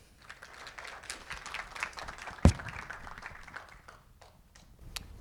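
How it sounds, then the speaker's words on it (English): An audience at a university immigration workshop applauds a speaker, a steady patter of clapping under faint background voices, with one sharp loud clap standing out midway before it thins toward the end. "Let's give him a round of applause."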